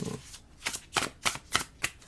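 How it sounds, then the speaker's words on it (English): A deck of pick-a-card reading cards is shuffled by hand, giving about six crisp riffling bursts in a steady rhythm, close and distinct with no voices. "Shuffled 5 times."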